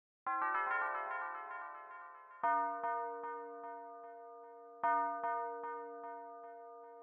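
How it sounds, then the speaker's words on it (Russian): Tubular bell in a trap beat, three clear bright metallic strikes spaced a couple of seconds apart, each ringing out with a long decaying tone, played alone without voices. "Третий звучок, как бы всем знаком, этот табуляр, такой колокольчик."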